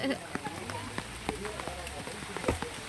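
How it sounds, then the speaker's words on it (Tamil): Heavy rain falls at a wetland park in Sri Lanka, a steady dense patter with scattered sharp drops spattering nearby, heard under a voice talking throughout. "பாருங்க ஃப்ரெண்ட்ஸ் மழை இப்படி பெய்யுது செம்ம மழை"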